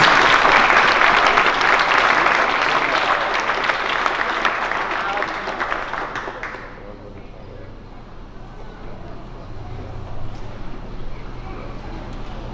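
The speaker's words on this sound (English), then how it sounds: "A round of applause for all the demonstrations." A crowd at a 164 Squadron Air Cadets annual review in Shelburne, Ontario applauds the cadet demonstrations, sustained loud clapping for about six seconds that fades away, followed by a quieter stretch with voices.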